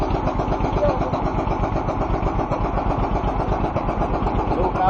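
A fishing boat engine chugs steadily in a fast, even rhythm, holding a constant level throughout at sea in the Sunda Strait, with faint background noise and no clear talk.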